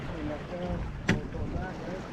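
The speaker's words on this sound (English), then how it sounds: "waves are coming" A sailboat cuts through waves during a regatta race, with wind and water rushing close to the microphone and one sharp splash or thump in the middle.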